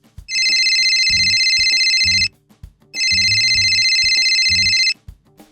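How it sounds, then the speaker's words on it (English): A mobile phone rings loudly with incoming calls in two long electronic bursts, separated by a short gap, over faint background music. "My phone kept ringing that I thought it was gonna break."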